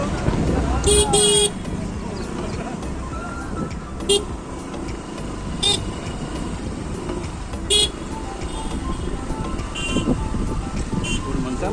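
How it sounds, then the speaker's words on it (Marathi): A car passes during a village jatra, sounding several short, sharp horn toots spaced a few seconds apart over a continuous rumble of traffic and crowd noise, with voices in the background. "गाडी जाते"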